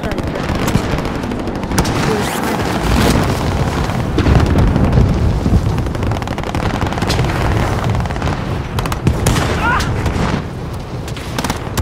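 Close, loud gunfire from a sniper rifle in Call of Duty: Modern Warfare, with repeated sharp cracks and booms over steady battlefield noise and a voice talking.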